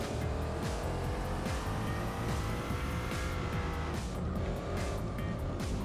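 Gran Turismo 4 race car with 400 horsepower, its engine roaring steadily close up while tires squeal and skid through turns, loud and continuous with no talking.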